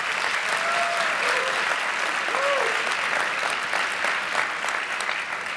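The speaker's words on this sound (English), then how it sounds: "It's my honor to present the members of the December class of 2017. All of whom you can applaud," A commencement crowd applauds the graduating December class, continuous dense clapping at full strength with a few whoops and cheers rising above it.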